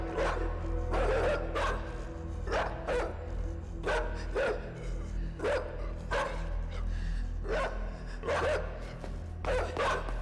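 Dog barking in a video game, a steady series of loud repeated barks over a constant low droning game soundtrack, roughly one bark every second or so.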